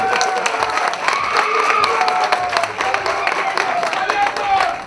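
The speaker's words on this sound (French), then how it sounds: "On applaudit pour lui." A crowd at a fan club gathering in Pointe-Noire applauds steadily, many hands clapping with scattered cheers and shouts, while a voice speaks over the clapping.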